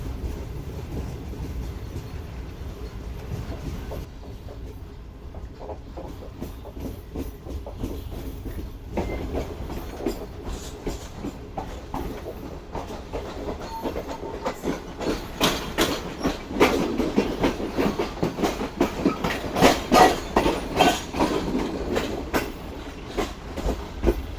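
A Pak Business Express passenger train runs on the rails between Karachi and Lahore, with a steady rumbling clickety-clack of wheels over the joints that grows louder and denser toward the end.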